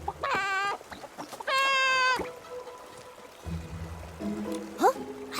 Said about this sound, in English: Let me jump up and see if this giant Barasant clucks!